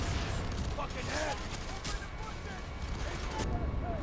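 Gunfire in the video game F.E.A.R. 3 during a suburban backyard fight at insane difficulty, with dense bursts of shots and booms over a rumbling background while a voice talks faintly.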